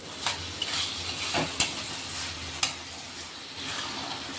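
Mung dal vegetable curry being stirred in a pan, with soft continuous sizzling broken by a few scraping strokes and light clicks of the spoon, fairly quiet and close.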